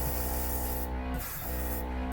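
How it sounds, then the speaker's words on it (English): Iwata airbrush spraying acrylic nail paint from about two inches away, a soft continuous hiss close up with a brief dip in the middle. "and it's a soft spray."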